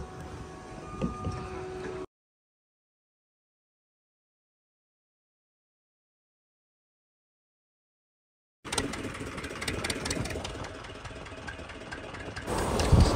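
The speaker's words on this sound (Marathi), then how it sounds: "इंजिन स्टार्ट झालेलं आहे आता ओढीचं।" A fishing boat's engine running as it leaves the shore near a fishing village, a steady mechanical drone heard close for two seconds, then a long gap of silence before the engine noise returns and grows louder to the end.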